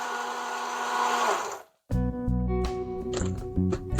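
A blender whirs loudly while mixing an Oreo and KitKat milkshake with milk. It cuts out briefly, then restarts with a deeper, churning motor drone and some pitch wobble.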